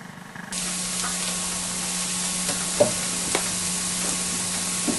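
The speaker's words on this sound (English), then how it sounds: "Now we're going to saute these up to add to our tomato salsa." Chopped garlic, onion and shallots sauté in a pan with a steady hissing sizzle that starts abruptly and continues evenly, broken by a couple of soft stirring taps, close by and without talk.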